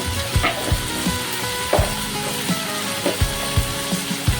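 Capsicum frying in oil with turmeric powder, a steady close sizzle broken by repeated sharp scrapes and taps of a spoon stirring against the pan.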